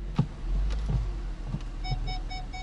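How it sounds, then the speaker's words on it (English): A Lincoln MKS rear parking aid speaker sounds while the car reverses toward a curb, giving a series of short, evenly spaced electronic beeps over low engine rumble, moderately quiet and close. "That's the sound of the rear parking aid speaker."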